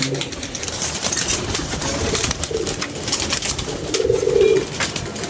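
Soft pigeon coos sound in short bursts against a steady, noisy background hum.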